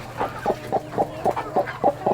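A broody hen clucks in a steady rhythm, about nine short, close clucks evenly spaced, with no talking.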